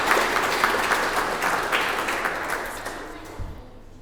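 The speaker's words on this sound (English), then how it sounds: "Family and friends, a big round of applause for Thomas and Dinabee." Guests at a wedding ceremony break into applause, a steady patter of many hands that is loud at first and gradually fades away toward the end.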